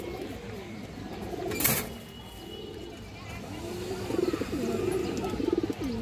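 A restless pigeon with bright red eyes coos in soft, repeated phrases, the cooing growing livelier toward the end, alongside a brief sharp noise midway and faint background hum.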